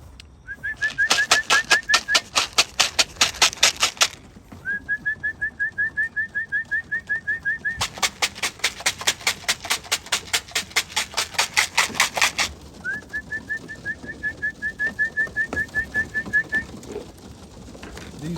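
Racing pigeons coming out of a transport truck during a training toss, with repeated bursts of fluttering wing flaps close by, each burst lasting a few seconds, alongside steady rising whistle-like tones between bursts.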